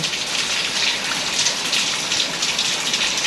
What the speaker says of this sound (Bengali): প্রচুর বৃষ্টি নামতেছে।